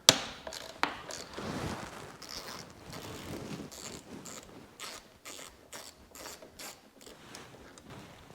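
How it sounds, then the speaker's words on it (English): A ratchet turns to loosen the caliper pin bolt on a bicycle's Tektro hydraulic disc brake, ticking in a rapid, fairly close series of clicks against light handling noise. "break the bolt free on the caliper pin while this is all bolted down"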